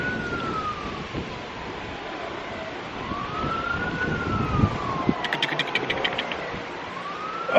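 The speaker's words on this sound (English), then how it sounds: "they can hear the siren" On a stormy day an emergency vehicle's siren wails in the distance, rising and falling slowly over steady rain and wind noise, with brief higher beeping toward the end.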